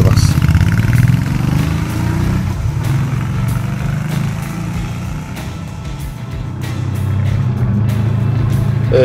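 Honda V-twin Magna 250 motorcycle engine on its stock muffler, worn after 16,000 km, rumbles with a steady deep low throb throughout, close and loud, with slight swells in level.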